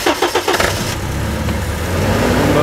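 A 2003 Toyota Hiace van's engine cranks with a few rapid starter pulses, then catches and settles into a loud, steady idle.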